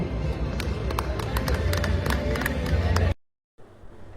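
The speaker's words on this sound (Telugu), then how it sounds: "చప్పట్లు" An award ceremony audience applauding, dense close clapping from a crowd that runs steadily for about three seconds, then cuts off abruptly, followed by a quieter stretch of room sound.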